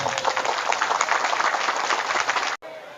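Dense audience applause at a rally honoring Banser guards who protect a kiai, steady and loud for over two seconds, then cutting off abruptly with a brief faint tail.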